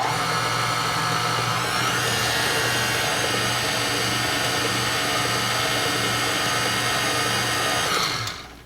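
Stand mixer running steadily with a paddle through lemon blueberry cake batter, a loud continuous motor whir with a constant hum that holds for about eight seconds before winding down at the end.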